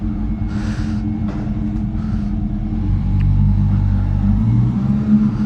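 A Honda CB400 Super Four Spec 3 motorcycle cruising at night, its engine a steady low rumble that swells slightly midway, heard close and alone over constant road and wind noise.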